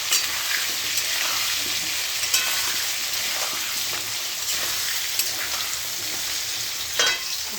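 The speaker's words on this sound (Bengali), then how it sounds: "আলুগুলো দিয়ে দিই, আলুটাকে ভালো করে ভেজে নিই।" Potatoes frying in hot oil in a pan give a steady, close, loud sizzle with a few sharper spits and crackles spread through it, and no voices.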